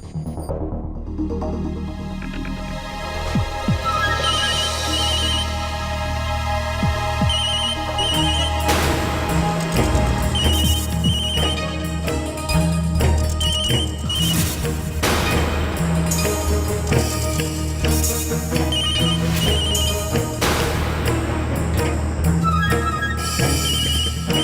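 A telephone rings with a repeating electronic tone in a Hindi family drama serial, heard over loud, dense dramatic background music throughout.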